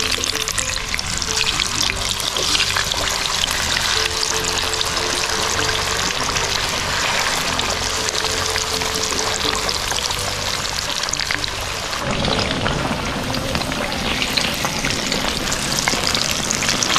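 Crispy pork and tofu fry in hot oil, a loud continuous sizzling and crackling hiss that holds steady, shifting slightly in texture partway through.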